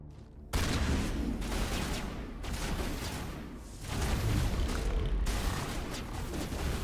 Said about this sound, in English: Rex, get your assault rifle out.